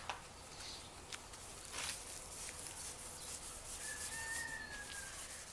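Hand sanding on a 1977 Corvette's paint with 1500 grit sandpaper worked in an X pattern, a soft steady rubbing and scuffing at low level, broken by a few brief scrapes and a faint passing tone.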